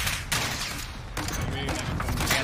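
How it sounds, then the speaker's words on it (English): Rapid gunfire bursts crackle through a Warzone match, a fusillade of shots under excited player chatter, fairly loud and continuous with sharper volleys near the start and midway. "I'm getting shot in the back."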